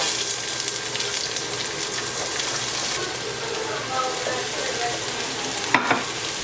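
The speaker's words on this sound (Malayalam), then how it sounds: "ഇതിലിനിപ്പോൾ സവാള അരിഞ്ഞ് വെച്ചേക്കുന്നത് നമുക്ക് ഇട്ട് കൊടുക്കാം." Chopped onions fry in hot oil with popped mustard seeds, giving a steady, close sizzle with soft stirring, then a brief clatter near the end.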